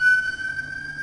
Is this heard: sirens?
yes